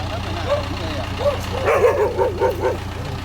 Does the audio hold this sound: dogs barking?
yes